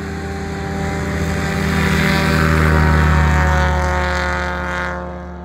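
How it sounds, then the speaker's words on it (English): A STOL airplane's propeller engine roars steadily through its long takeoff rollout during STOL drag racing at the Reno National Championship Air Races, loud and sustained, swelling mid-clip and then easing. "He's gonna give Steve Henry a run with that long rollout. Look at that thing go"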